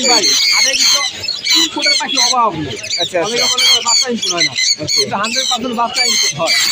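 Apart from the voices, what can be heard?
pet birds squawking at Mirpur bird market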